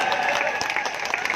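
Crowd at an outdoor farmers' protest rally at the Singhu border breaking into applause, a dense wash of clapping from many hands, fairly near and sustained for a moment.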